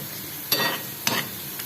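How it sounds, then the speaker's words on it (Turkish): A steady sizzle of onions frying in a pan, broken by a couple of scraping stirs. "Soğanımı qorum."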